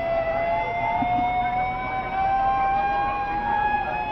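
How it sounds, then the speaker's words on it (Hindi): Sirens wail continuously at the scene of a transformer blast fire in Chhattisgarh, steady rising tones holding loud throughout with no speech. "तो लगातार जो सायरन आप सुन पा रहे हैं"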